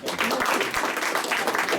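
A live studio audience at the Viva! NashVegas radio show breaks into a burst of applause, a dense, steady wash of clapping that stays loud and close for the whole moment, with no talk over it.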